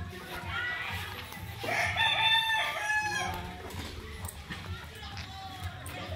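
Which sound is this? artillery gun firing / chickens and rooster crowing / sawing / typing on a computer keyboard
chickens and rooster crowing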